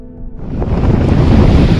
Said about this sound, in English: waves thrashing Florida's coastline in a season that's seen hurricane after hurricane